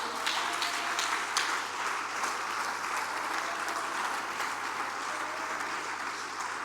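A church congregation applauds and cheers in one sustained, dense wash of clapping that stays steady and fairly loud throughout, with no distinct talk above it.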